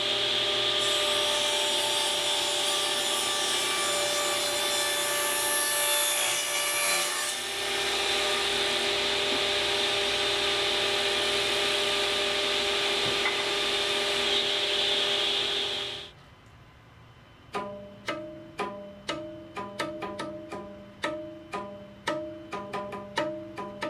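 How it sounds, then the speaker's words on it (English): A router fitted with a round-over bit shapes the edges of wooden boards, whining loudly and steadily for about sixteen seconds before cutting off, followed by a run of sharp, ringing plucked notes. "I'm going to pass the rest of the boards through the round over bit, get all the edges rounded over"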